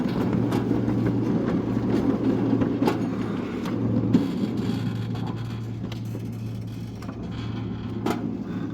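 A train backs slowly along a track into an open container, giving a loud, steady low rumble with a constant hum and scattered metallic clanks and knocks throughout.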